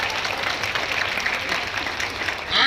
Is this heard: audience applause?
yes